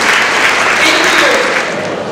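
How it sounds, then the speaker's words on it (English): Brief, dense clapping from a banquet audience honoring youth council members at an awards dinner, steady and full before tapering a little toward the close, with faint talk underneath. "please let us give them a round of applause as they do come"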